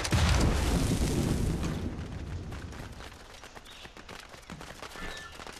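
Explosions from barrels blown up in Assassin's Creed Rogue: a loud booming blast that rolls and crackles, then fades into scattered popping debris and rumbling game ambience.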